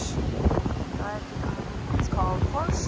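Gusty wind buffets the microphone at Horseshoe Bay Beach in Bermagui, Australia, a steady low rumble that swells and fades while a voice speaks over it.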